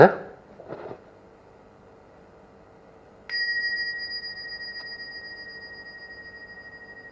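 After a couple of soft knocks, a single bell is struck and rings out with a clear sustained tone that slowly fades over several seconds.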